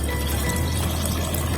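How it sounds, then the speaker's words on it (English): Water pours steadily into a CarCan, a portable car container for ice, drinks or trash, giving a continuous close splashing fill with no talking. "we're pouring in the water"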